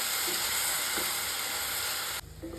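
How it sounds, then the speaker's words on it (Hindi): Coarsely ground onion frying in hot oil, a steady, close, bright sizzling hiss that cuts off sharply near the end, leaving a faint low hum and a soft tone. "तो चलिए पहले हम प्याज को भून लेते हैं।"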